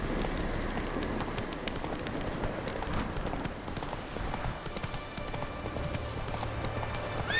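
Hooves of the horse Roach galloping in The Witcher 3, a continuous fast clip-clop drumming over ambient game sounds with faint bird calls, steady and fairly loud throughout.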